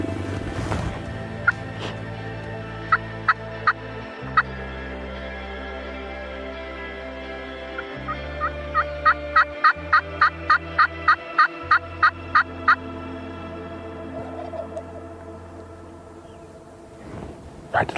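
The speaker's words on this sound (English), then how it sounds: "we've been hearing them gobble" Wild turkey gobblers in spring season call repeatedly from a distance, with a few isolated gobbles early and then a rapid run of about a dozen regular pulses, under quiet outdoor ambience with low rumble.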